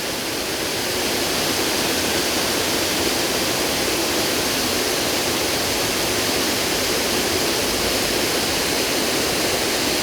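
A waterfall in the Fairy Glen at Rosemarkie roars steadily and loudly, a dense unbroken rush of falling water heard close with no voices.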